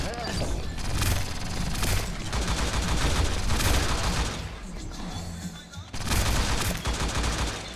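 Automatic weapons fire rattles in rapid, sustained bursts during a T3 Arena mobile shooter match, loud and continuous with a brief break, under an excited player's voice.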